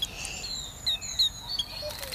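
Small bird chirping in short, faint high tweets at a bird bath, with light wing flaps and pattering, heard close in a quiet outdoor setting.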